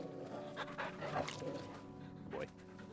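A dog panting in Final Fantasy 16, rapid close breathy huffs with a few soft whimpery tones over a busy game soundscape, with a voice talking over it.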